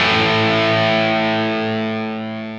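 Angel of Rock distortion pedal with the tone control at its midpoint: one distorted guitar chord rings out loud and full, then slowly fades.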